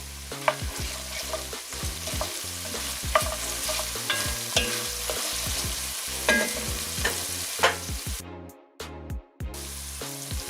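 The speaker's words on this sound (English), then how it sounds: "We're going to now also add our mushrooms in as well. This will suck up most of the oil and get that to start browning." Mushrooms frying in oil in a pan for a hot and spicy Asian oxtail stew, a close, steady sizzle with frequent knocks and scrapes of a utensil stirring, briefly dropping away near the end, with no speech.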